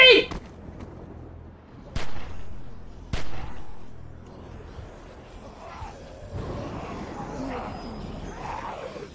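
Gunshots in The Walking Dead Season 2 video game: three sharp, loud cracks spaced about a second apart near the start, followed by a busier stretch of voices and commotion.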